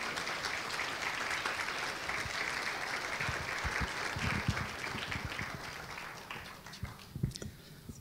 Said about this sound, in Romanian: Să încurajăm pe aplauze.